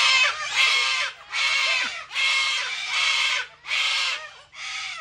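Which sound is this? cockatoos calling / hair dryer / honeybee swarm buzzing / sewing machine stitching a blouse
cockatoos calling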